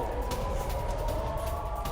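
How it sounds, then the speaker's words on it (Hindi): Air raid sirens wailing across Tel Aviv during a rocket attack, a steady sustained tone over dense background rumble, heard alone without speech. "तेल अवीव समेत कई शहरों में बज रहे हैं सायरन।"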